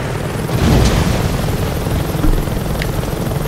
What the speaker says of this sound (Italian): Niente, un elicottero da sotto ti prende.